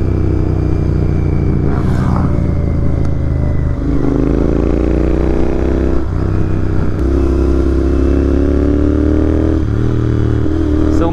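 A Royal Enfield GT650 motorcycle engine drones loudly and steadily on a weekend group highway ride, with constant wind rush and clatter and no break in the sound.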